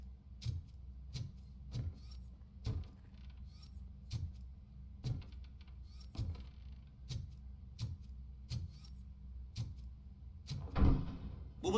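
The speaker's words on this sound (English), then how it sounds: "Now let me get that door open for you." Mechanical door-opening effects in the RoboCop video game: a steady rhythm of heavy clunks and metallic rattles repeating about once a second, with a louder grinding burst near the end.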